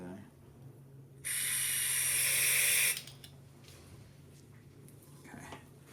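Cleaner is sprayed into the carburetor of a 1990 EZGO Marathon 2-cycle gas golf cart, a single loud, close hissing blast lasting under two seconds over a faint steady hum, followed by quiet handling clicks.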